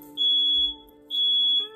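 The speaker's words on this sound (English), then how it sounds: "my fire alarm goes off in the middle of recording" A smoke alarm goes off while cooking, giving two long, piercing high-pitched beeps close by, with a brief gap between them and no talking.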